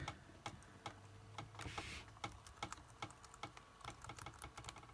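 Keys clatter on an IBM ThinkPad T43 laptop keyboard as a password is typed, with quick irregular clicks and taps close up and no talking.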